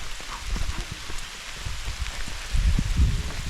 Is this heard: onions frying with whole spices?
no